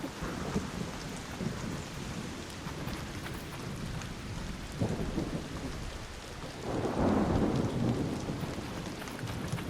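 Electrical storm in Arc Raiders: steady rain pours throughout while deep thunder rumbles roll in, with a louder, swelling thunderclap building near the end, no voices present.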